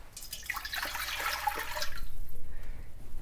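Water pours steadily into a large stock pot, a splashing, bubbling rush that fades into a quieter trickle.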